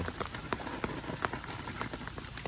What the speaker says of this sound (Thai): ท่ามกลาง สายฝนอันโปรยปราย ชุ่มฉ่ำมากเลยทีเดียว